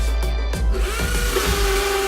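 Power drill fitted with a great big bit boring a faucet hole, heard up close with a loud motor whine that climbs and steadies as the bit bites in, no voices.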